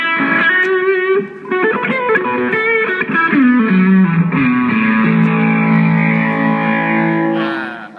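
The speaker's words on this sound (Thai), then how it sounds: "เสียงแตกเป็นโอเวอร์ไดแบบออกแนวไปทางไฮไฮเกนหน่อยครับ" Electric guitar through a high-gain overdrive pedal, a thick, heavily distorted tone, playing sustained chords and bending lines that ring out and fade at the end.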